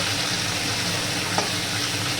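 Bangladeshi hilsa fish frying in a pan, a steady close hiss and crackle of hot oil throughout, with one small pop near the end.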